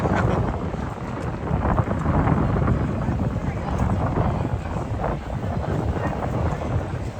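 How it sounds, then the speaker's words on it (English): Wind buffets the microphone continuously outdoors in Sheffield city centre in December, a loud, rumbling roar that never lets up. "the wind's just picked up a little bit"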